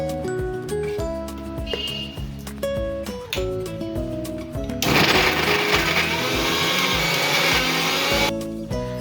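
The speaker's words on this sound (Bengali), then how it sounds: "চিজ চিকেন বল করার জন্য চিকেনগুলো আমি মিক্সিতে বেটে নেবো" An electric mixer grinder whirs loudly as it blends boiled chicken into a paste, a harsh steady motor roar starting midway after a stretch of background music.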